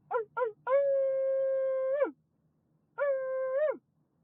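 A dog howls nearby: two short yips rise into a long, steady howl, then after a pause one more shorter howl, clear and alone against a quiet background.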